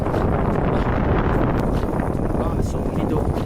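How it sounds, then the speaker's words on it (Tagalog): Strong wind roars and buffets against the microphone in a steady, loud rush, with a voice faintly mixed in, during a bike ride at East Coast Park, Singapore. "Ang lakas ng hangin."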